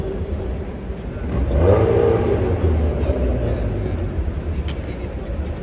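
A classic Morgan car engine revs and rumbles as it drives in at a classic motor car show, swelling louder then settling into a steady drone nearby.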